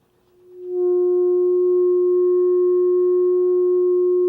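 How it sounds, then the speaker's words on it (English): A metal pipe sounding after the screen inside is heated, a pure steady tone swelling up over half a second and then holding loud and unwavering, with faint overtones and no talking. "I'm going to heat the screen in one of these pipes"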